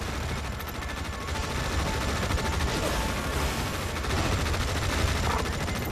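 Sustained gunship gunfire in Tom Clancy's EndWar, a dense, continuous battlefield roar of rapid shots and explosions layered together with no clear breaks, steady and loud throughout.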